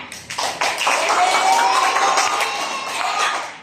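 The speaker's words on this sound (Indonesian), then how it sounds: "kelompok 2 dulu kasih tepuk tangannya" A group of students in a classroom claps and cheers loudly, a lively burst of applause mixed with excited shouting voices that stays strong throughout.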